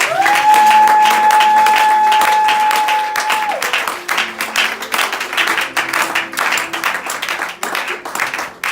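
A church congregation at a women's convention applauds for God. Sustained dense clapping continues throughout, mixed with crowd noise and a long held sung or keyboard tone near the start.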